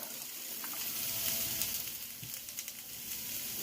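Carrot and celery sizzle steadily as they hit a hot pan for a shrimp and vegetable stir-fry, a continuous close crackling hiss with a few soft clinks.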